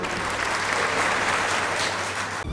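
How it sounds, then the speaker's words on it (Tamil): A live audience at a Women's Day debate event in Dharapuram claps loudly and evenly for a speaker coming on stage. The applause is dense and sustained, then cuts off abruptly. "உங்கள் கைத்தட்டலோடு இந்த பக்கம் நம்ம ரொம்ப ஆவலாக எதிர்பார்க்கிற நாஞ்சில் விஜயன் அவர்கள் வருகிறார்."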